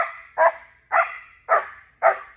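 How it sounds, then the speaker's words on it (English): A dog lets out four loud, deep barks close by, spaced evenly about half a second apart with short pauses between, and no voices over them. "There's the deep bark."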